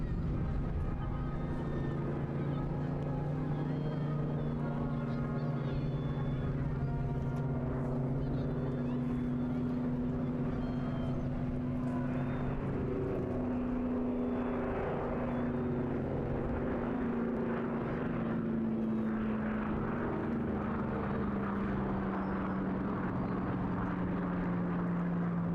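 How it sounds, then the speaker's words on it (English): A Mark 5B Spitfire flying in formation with other aircraft at an airshow, a continuous droning piston-engine roar with a slowly shifting pitch that rises and falls, heard under an announcer's commentary. "Flight Lieutenant Al Luckins in the Mark 5B Spitfire. We get a few minutes now of formation flying"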